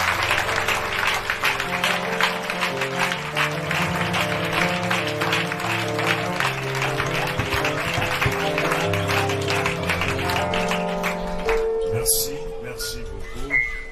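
A church congregation at a temple dedication ceremony applauds and cheers under organ or keyboard music, with a dense, continuous patter of clapping and whistles, loud throughout and tapering slightly near the end.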